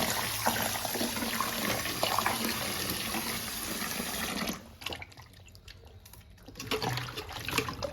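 Running water washing chopped jackfruit in a kitchen, a steady splashing flow that briefly drops away before resuming, no one speaking.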